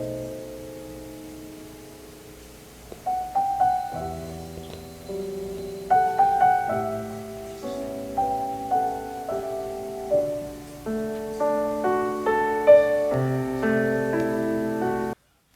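Classical piano music plays through the built-in speakers of a MacBook Pro 16 laptop. A gentle melody of sustained notes and chords starts softly and builds to a fuller, steadier level, clear and close with no talking.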